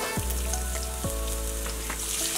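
Chopped ginger drops into hot oil for a mixed vegetable achar, setting off a loud, steady sizzle and crackle close by, with two brief low thumps from the pan along the way.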